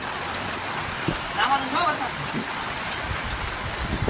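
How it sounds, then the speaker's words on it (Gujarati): Heavy monsoon rain hisses and patters close by in flooded Timba village, with faint voices murmuring under the constant wash. "ચાલુ વરસાદમાં"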